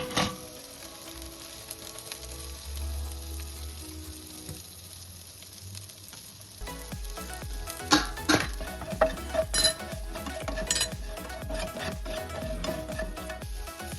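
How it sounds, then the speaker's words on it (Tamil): Onion and capsicum fry in butter on a hot tawa, a steady close sizzle that swells in the second half with scattered clinks and scrapes of a utensil against the pan. "செஞ்ச தவாவிலே நம்ம பட்டர் கொஞ்சம் போட்டு வெங்காயம், குடமிளகா ஃப்ரை பண்ண போகிறோம்."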